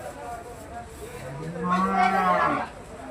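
A cow moos at a busy cattle market, one long low call rising in the middle of the clip over crowd murmur and voices.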